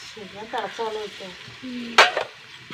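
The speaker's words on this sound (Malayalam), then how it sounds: "കുറച്ച് ചൂടുവെള്ളം ഒഴിച്ചു കൊടുക്കട്ടെ" Hot water hits a pan of sizzling curry masala made with koorka (Chinese potato), giving a brief, sharp hissing burst near the end after a stretch of talking.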